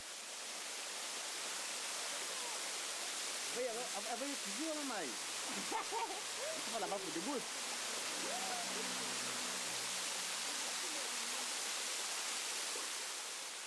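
A waterfall used for a purification rite for Malagasy ancestor worship on Réunion pours in a broad, steady roar, close and constant, while faint voices and brief tonal sounds rise over it in the middle.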